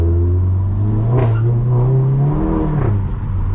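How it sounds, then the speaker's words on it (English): Turbocharged VW Golf GTI Mk7.5 driven on the road: loud engine drone rising in pitch, with brief airy fluttering bursts as the throttle lifts, heard from inside the car with no talking. "that turbo flutter then"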